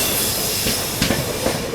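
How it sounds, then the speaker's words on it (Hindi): An express train rushes past on the neighbouring track, heard from inside a moving train as a loud, continuous roar with clattering wheels and sharp metallic rattles. "सामने से आ रही है नॉर्थ ईस्ट एक्सप्रेस"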